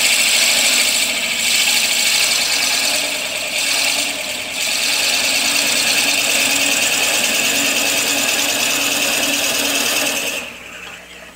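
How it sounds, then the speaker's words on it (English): A power drill boring a hole into the end of a turned wooden spindle, a loud, steady whirring drone that holds for about ten seconds, dips briefly, then winds down. "So I'm going to drill a hole and I'm going to put a couple inches of this 1-inch dowel in the end of this spindle."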